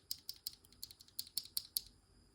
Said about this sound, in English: we're going to be unboxing the Kai Boom mechanical keyboard switches